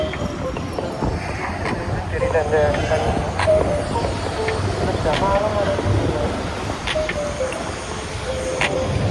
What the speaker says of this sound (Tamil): டிராஃபிக் சவுண்டு தான் கேட்குது.